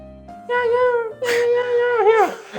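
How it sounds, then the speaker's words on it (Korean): A cat meows several times in drawn-out, wavering cries, close by, with a low hum underneath. "특별 출연 우리 고양이 친구 이름이 뭐죠?"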